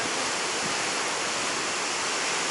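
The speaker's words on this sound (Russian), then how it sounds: "Сильно бурлит море." Rough sea churns in cold, windy weather, a dense, even roar of crashing water that fills the whole stretch without pause or voices.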